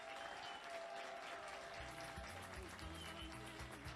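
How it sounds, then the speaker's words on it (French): Audience at a Caribbean Christmas singing contest claps loudly and continuously for a jury member being introduced, a dense wash of applause with some music or voices faintly underneath in the second half. "On l'applaudit très fort."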